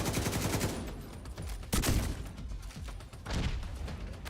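Gunfire in The Division 2 video game, with several loud, dense bursts of shots rattling close by and no talking.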